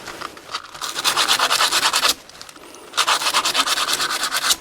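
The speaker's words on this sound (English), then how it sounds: "So with the sandpaper, we just sand this a little bit." Sandpaper rubbed by hand across a CBN grinding wheel to remove markings, two loud rhythmic bursts of rapid back-and-forth scratching separated by a brief pause, close up with no speech.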